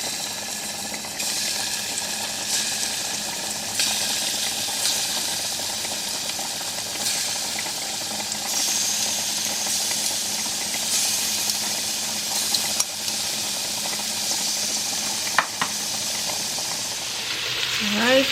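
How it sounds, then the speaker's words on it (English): Shrimp sizzling in olive oil in a hot pot for scampi, a steady broadband frying hiss that runs continuously with occasional pops and crackles, close and fairly loud, with no talk over it. "Add a little olive oil and we're going to cook the shrimp for about 2 minutes on each side."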